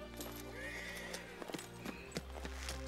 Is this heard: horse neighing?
yes